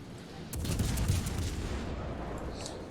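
Warship guns in World of Warships, a deep rumbling salvo starting about half a second in, followed by a long low roll fading away, with a faint distant crack near the end.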